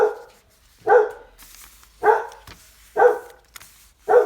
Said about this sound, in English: I told you my dogs always bark.